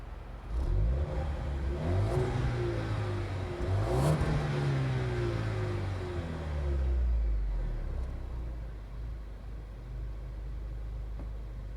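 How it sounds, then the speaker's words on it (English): 2020 Jaguar XE AWD in dynamic mode, its engine revving up to around 5,000 RPM in a rising, falling sweep that peaks mid-way, then a second shorter rev and a steady idle rumble, heard close up. "let me rev up the vehicle so you guys can hear how it sounds"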